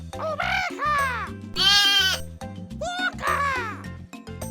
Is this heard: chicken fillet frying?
no